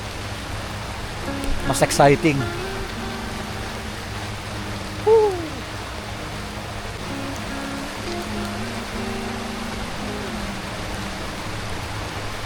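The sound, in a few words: rain falling at Camp Silva hot spring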